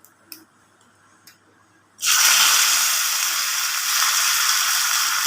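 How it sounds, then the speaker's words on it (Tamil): Mustard seeds dropped into hot oil for tempering burst into a loud, steady crackling sizzle after a couple of quiet seconds with faint clicks, continuing close and unbroken to the end. "எண்ணெய் ஊற்றிக்கலாம். கடுகு போட்டுக்கலாம். பொரிஞ்சு வந்ததும் கருவேப்பிலை போட்டுக்கலாம்."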